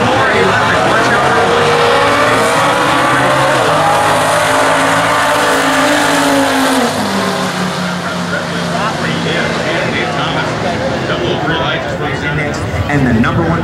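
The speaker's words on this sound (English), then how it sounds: "Wind it up, dump the clutch, and try to pull the shift handle through." A 1967 Camaro with a manual transmission launches at a drag race at the U.S. Nationals, its engine roaring loudly with a rising pitch as it shifts and pulls away, heard close over a crowd setting.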